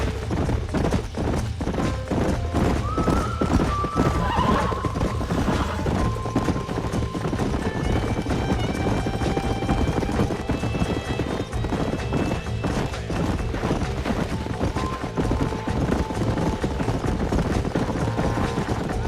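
Horse hooves clip-clop at a steady gallop in Red Dead Redemption on Xbox 360, a continuous, even beat running throughout with faint background music and no talking.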